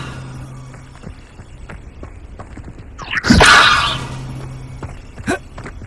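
A Levioso spell cast in Hogwarts Legacy goes off as one brief swooshing burst midway through. A steady low game hum sits beneath it, and a small soft thump follows shortly after.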